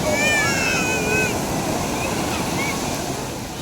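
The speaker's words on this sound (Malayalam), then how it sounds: "എന്താ തിരമാല" Ocean surf at Kozhikode beach at night during a crowded festival outing: a loud, continuous roar of breaking waves with faint voices mixed into the wash.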